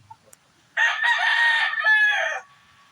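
A fighting rooster gives one loud, clear crow lasting under two seconds, close by, after a few faint clucks and small sounds in an otherwise quiet setting.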